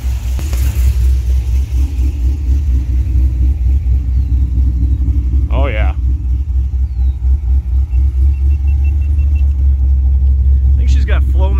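The exhaust of a Cadillac CTS-V LS V8 fitted with rusty Flowmaster mufflers, heard from behind the car as a loud, constant deep rumble. Someone speaks briefly over it.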